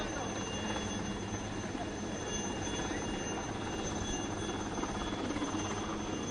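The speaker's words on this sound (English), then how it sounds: "They are now ready to display the awesome power of a helicopter" A helicopter drones steadily nearby at a Navy show at Punnami Ghat, Vijayawada, its rotor chopping in a constant throbbing pulse with a high engine whine, loud and unchanging.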